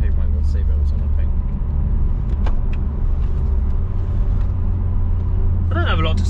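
Nissan Juke Nismo RS engine and exhaust idling with a steady low rumble, close and continuous, with brief people's voices over it near the end.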